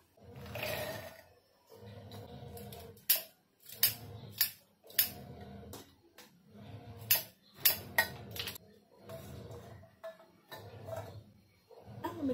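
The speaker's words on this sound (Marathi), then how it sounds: "वाटाणे आणि हे मिक्सरला फिरवून घेऊया।" A kitchen mixer grinder runs in short repeated pulses, grinding green peas, green chillies, garlic and ginger; each quiet burst of whirring and rattling is followed by a brief pause, about a dozen times in a row.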